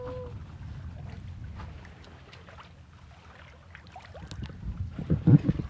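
A sailboat under full sail moves across open water, a steady low rush of wind and hull wash running throughout, with a few creaks and knocks and a louder splashing surge near the end.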